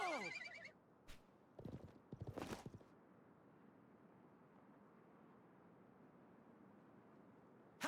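A horse's shrill neigh in the Wild West chapter of the video game Live A Live, loud at the start, followed by a few hoof clops and snorts, then a quiet, steady game background.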